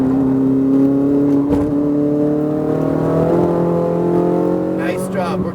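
A Ferrari engine drones loud and steady on a race track, its pitch rising gradually with a short shift partway through, under a driving instructor's voice.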